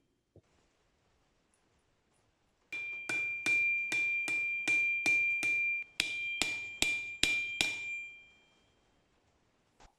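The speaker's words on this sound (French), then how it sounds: "je force le manche à s'enfoncer à l'intérieur de la tête du marteau" A wooden handle is driven into a forged steel hammer head with about fourteen ringing metallic blows in a fast, even rhythm, each one sharp and close, followed by a lingering ring that fades in a quiet room.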